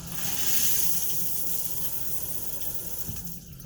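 Steady broadband hiss of a shower running inside a 2011 Newell Mini-Tour motorhome, water spraying continuously at close range with no voices.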